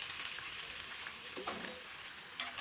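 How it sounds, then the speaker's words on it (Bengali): Garlic fries in hot oil in a frying pan with a soft, continuous, fairly faint sizzle, broken by a couple of brief stirring scrapes. "দিয়ে দিলাম তেল তেল গরম হয়ে গেছে এখন দিয়ে দিব রসুনগুলো"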